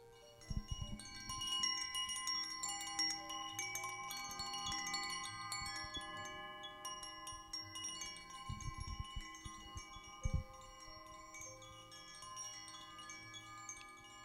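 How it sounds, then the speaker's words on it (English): A 412 heart chakra chime rings with clear sustained metallic tones, struck several times and left to shimmer and decay slowly, heard alone and quite softly. "I'm going to close out with my lovely 412 heart chakra chime."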